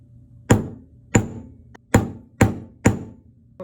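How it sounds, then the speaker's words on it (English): Five sharp metallic hammer strikes, evenly spaced about half a second apart, as the flat face of a hammer taps jewelry pieces into place on a bench; close, crisp impacts each with a short ringing decay, over faint background hum. "I'll be using the flat side of the hammer to hammer the pieces in place."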